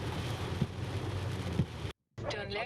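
Heavy storm rain in Bangalore pours steadily as a dense, close hiss, with a couple of brief thumps, a sudden cut to silence, then a resumed noisy wash.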